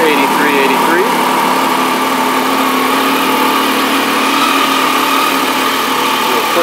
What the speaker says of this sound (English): Do a quick walk around the bike with it running here.